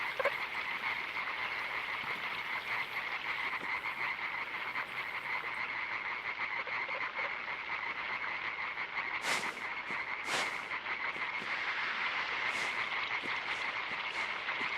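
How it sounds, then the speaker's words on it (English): Frogs croaking at night in the countryside, a dense steady chorus of rapid calls layered with insect buzz, continuous and moderately loud, with a couple of brief sharp noises partway through. "I love the sounds of frogs."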